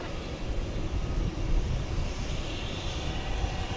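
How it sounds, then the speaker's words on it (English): A McDonnell Douglas MD-11 jet taking off from the east side of DFW Airport on a hazy morning, heard as a steady, broad engine roar at a distance with no talk. "that MD-11, and it's just now taken off from the east side"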